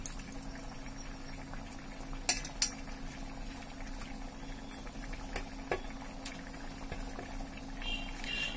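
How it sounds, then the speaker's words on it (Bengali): Mustard-paste gravy for a rui fish curry boils in a pan with a soft, continuous bubbling. It is faint and close, broken by a few small pops and clinks, with no speech. "ঝোলটা ফুটে উঠছে,"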